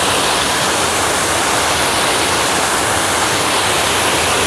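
Muddy water rushing steadily along an irrigation canal, loud and continuous broadband roar close by with no letup and no voices.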